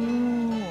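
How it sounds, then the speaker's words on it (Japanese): A cow in a zoo pen, having recently given birth, gives a single short, close moo with a steady low tone that bends downward at the end. "こっちの檻にね、出産終わった後の牛がいるから。"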